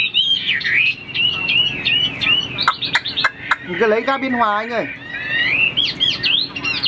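A prized songbird kept for sale chirps and trills in bright, high repeated phrases through the clip, with someone talking on the phone alongside, fairly close and steady.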